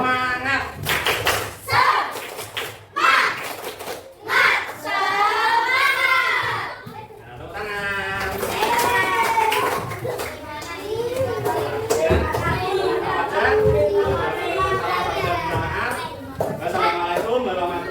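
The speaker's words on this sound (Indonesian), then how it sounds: "kita tepuk semangat, yuk tepuk semangat" A class of Indonesian schoolchildren led by their teacher does a rhythmic tepuk semangat clapping chant, with bursts of hand claps and children's voices shouting in a loud group, then steady chanting voices.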